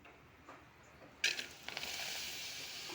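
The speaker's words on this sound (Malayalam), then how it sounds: "നമ്മൾ ആദ്യം പപ്പടം വറുത്ത് മാറ്റി വെക്കുവാണ്." Pappadam frying in hot coconut oil in a pan gives a sudden close crackle and bubbling that settles into a steady soft sizzle, quiet overall, preceded by a faint tick or two.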